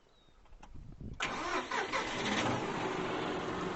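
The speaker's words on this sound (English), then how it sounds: "you're going to start your tractor" A tractor engine cranks briefly and then catches, settling into a loud, steady mid-pitched idle that continues close by without any talk.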